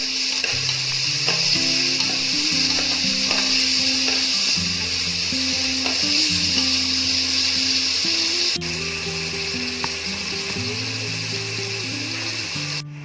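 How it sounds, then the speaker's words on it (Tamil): Onions sautéing with a cinnamon stick and bay leaves in a pan for egg biryani, a steady loud sizzle running throughout, with repeated scraping stirs and clinks of the spatula up close. "வெங்காயத்தை போட்டுடலாம். நல்லா வதக்கிக்கலாம்"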